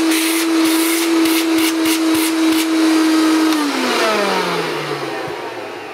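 A vintage Hoover S4256 Powerglide vacuum cleaner runs close by with its hose attached, giving a loud steady motor whine with a rough edge that drops in pitch midway as the motor slows, alone without voices.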